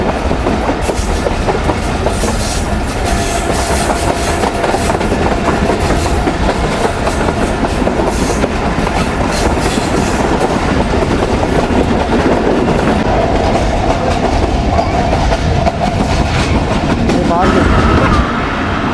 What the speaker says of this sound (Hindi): 3:50 ट्रेन हमारी अप्रोच बना रही है चन्योड़ रेलवे स्टेशन पर